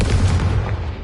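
A Confringo blasting spell explodes in a wizard video game, one loud, booming burst that quickly fades away, heard alone without talk.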